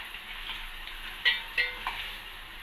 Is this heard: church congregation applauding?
no